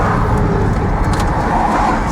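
A turbocharged car accelerates hard, its engine a loud, steady roar that fills the whole stretch without a break and rises in effort throughout.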